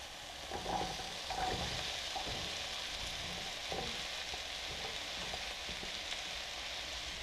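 Zucchini and yellow summer squash sizzle steadily in a hot pan, a dense bright frying hiss running throughout with a few soft clatters of vegetables landing and stirring early on.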